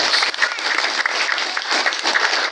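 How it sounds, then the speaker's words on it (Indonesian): A crowd at a religious gathering for tausiah and dhikr applauds a respected kiai, a loud, dense and continuous round of clapping from many people that holds steady throughout. "tepuk tangan buat beliau"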